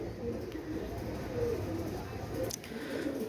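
Pakistani Rampuri and Royal Teddy pigeons coo softly, several low murmuring calls over a steady background hum of a pigeon loft, with a brief sharp knock near the end.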